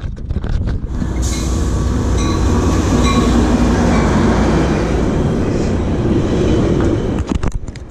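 A train rumbles past beside a large riverbed, a loud, steady roar of rail cars running almost the whole time with faint wheel squeal on top, then fading out at the end.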